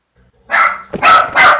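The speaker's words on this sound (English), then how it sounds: "Stupid neighbour's dogs just howling in the background." Neighbouring dogs bark nearby in three loud, sharp bursts in quick succession after a moment of quiet, with no talking.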